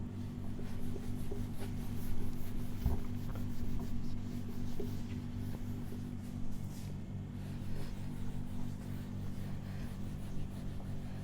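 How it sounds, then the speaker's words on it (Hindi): A board is wiped clean of writing with steady rubbing and scrubbing strokes, faint and continuous over a low background hum, with no talking. "ठीक, चलिए मिटाते हैं।"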